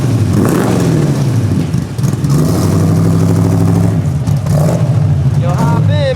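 A 1975 Corvette with a 4-speed runs loud and close, its V8 rumbling and revving as it pulls away, with people talking over the engine throughout.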